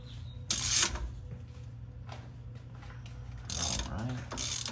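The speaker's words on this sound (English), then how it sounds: "We're gonna use the socket extension." A ratchet on a socket extension turns a rear differential plug, giving two or three short, close ratcheting bursts separated by quiet pauses.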